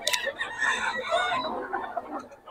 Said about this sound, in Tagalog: Ayan o, ganda ng mga manok ni Boss Gag.